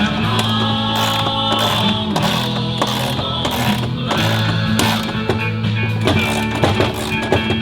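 A socket wrench ratchets steadily and close up, a continuous run of rapid metallic clicks and grinding mechanical turns, loud and alone with no talk.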